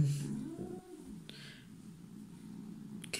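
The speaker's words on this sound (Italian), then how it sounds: "E la gatta col braccino spezzato." A cat gives a short vocal cry at the start, followed by faint rustling and low room noise.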